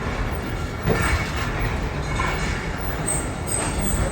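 Pakistan Express 46 Down passenger train rolling along the rails after leaving the station, a steady close rumble of wheels with faint clicking and light squeals, no talk.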